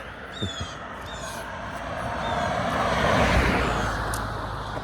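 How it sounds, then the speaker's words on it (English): A car passes along a rural farm road on a frosty autumn day, its engine and tire noise swelling gradually to a peak and then holding, with faint honking of wild geese overhead near the start. "And here comes a car."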